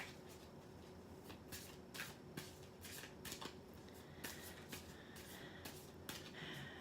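Tarot cards being shuffled by hand, with soft, quick riffling bursts repeating in an uneven rhythm, close and quiet with no voices.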